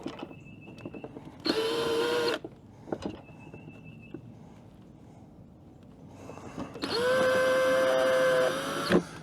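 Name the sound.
drill bit drilling a hole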